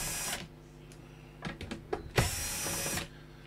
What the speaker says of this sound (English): So I've got a trusty drill here.